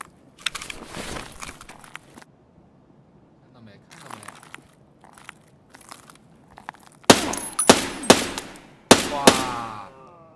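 Gunfire in Escape from Tarkov during a raid against a scav-like enemy, with scattered shots and rustling early, then several loud sharp bursts close together in the final seconds.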